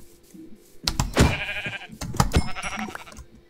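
Sheep bleating in the video game Minecraft: several loud, close, wavering bleats in two bursts over about two seconds, with no talking.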